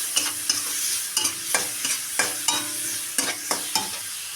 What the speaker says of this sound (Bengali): বন্ধুরা চিংড়ি মাছ রসুন এবং কাঁচা লঙ্কা আমার ভাজা হয়ে গেছে